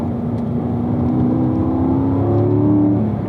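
Race car accelerating on the Spring Mountain track: a steady engine drone whose pitch rises gradually, loud and close, with no talking.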